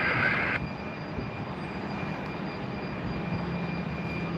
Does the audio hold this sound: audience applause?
no